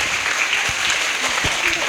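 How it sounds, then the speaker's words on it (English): An audience at a grammar school performance applauds the children's song, a dense, fairly loud wash of many hands clapping continuously, with a few murmuring voices mixed in. "Give them a round applause for the children."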